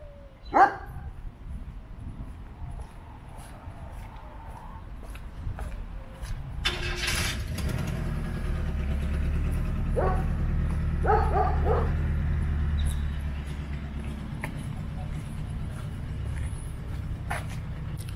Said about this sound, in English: that dog scared me